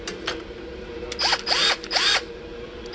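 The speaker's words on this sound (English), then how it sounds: "And the drill." A Hercules 12-volt brushed cordless drill whirs in three short bursts, each spinning up and cutting off, with quieter mechanical clicks between them.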